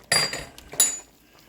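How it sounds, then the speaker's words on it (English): A spoon clinks twice against a pot while stirring meatballs in sauce. The two short metallic knocks come close and clear, and a faint wet shuffle follows between and after them. "Gonna mix those up a little tiny bit"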